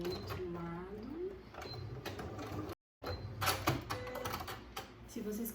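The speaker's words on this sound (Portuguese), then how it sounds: "Vamos fazer a costura do outro lado." Sewing machine stitching a keychain coin purse, rapid mechanical ticking in short runs with a brief pause midway, mixed with a person talking throughout.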